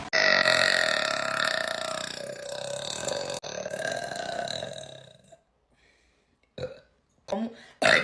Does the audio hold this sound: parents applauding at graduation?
no